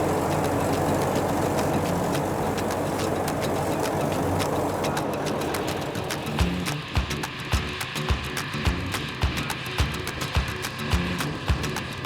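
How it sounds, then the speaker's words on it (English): A heavy diesel engine of a big old articulated tractor rumbles steadily in an arable field, then settles into a rhythmic clanking chug as the machine works, fairly close and loud. "seen a big articulated tractor at work"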